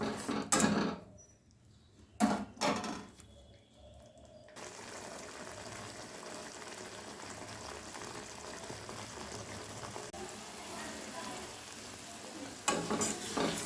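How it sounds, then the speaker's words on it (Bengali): Spice masala stir-fries in oil for Hyderabadi paneer, a few loud scraping stirs at first, then a steady low sizzle with faint clinks, a final stir near the end. "আবারও মশলাটা খুব ভালোভাবে কষে নেব যতক্ষণ না তেল ছেড়ে আসছে"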